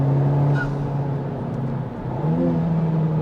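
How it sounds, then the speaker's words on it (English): A 2020 Honda Civic Type R with a PRL intake, its engine droning loud and steady up close, the pitch dipping briefly and then climbing again as it revs on the road. "do I love the sound of that engine"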